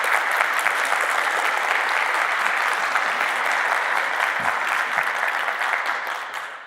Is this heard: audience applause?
yes